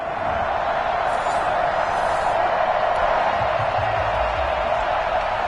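Stadium crowd noise from a Madden football video game before a Kansas City Chiefs versus Cleveland Browns matchup, a steady loud roar with faint cheers rising through it, heard under a commentator's voice.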